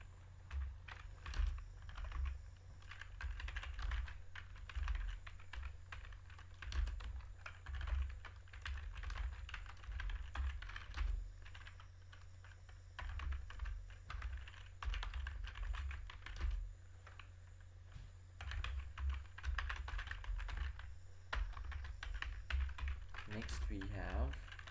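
Computer keyboard typing in quick, uneven bursts of soft key clicks with short pauses, faint and close, while someone talks over it.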